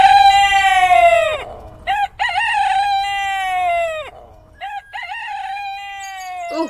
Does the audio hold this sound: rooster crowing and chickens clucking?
yes